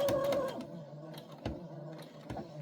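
A sewing machine stitches back and forth over fabric for a diaper cover, with short rhythmic mechanical bursts and clicks separated by brief pauses, moderately quiet and close.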